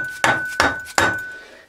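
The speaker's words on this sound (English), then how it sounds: "Let me get a soft hammer to hit that back with." A soft hammer strikes a machined steam engine cylinder three times at an even pace, each blow a sharp knock with a faint metallic ring that decays before the next, loud and close with no voices.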